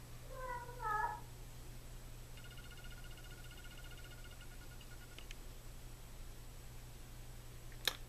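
A cat meows a few times near the start, fairly faint over a low steady hum, followed by quiet background and a brief click near the end.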